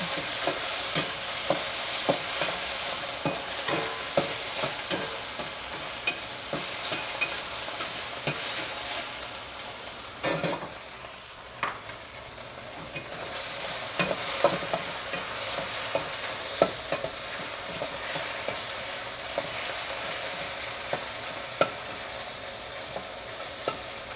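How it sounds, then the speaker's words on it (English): Pad Thai noodles frying in a wok while being stirred, a steady close sizzle broken by repeated scraping stir strokes over about 24 seconds, with no talking. "I think I can stir it a little bit now."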